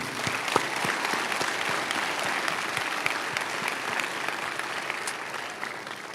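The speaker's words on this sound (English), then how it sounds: "let's applaud those other groups I just mentioned for helping you" A graduation ceremony crowd at Weeki Wachee High School claps in a soft, distant patter with individual sharp hand claps standing out, steady and fairly quiet throughout.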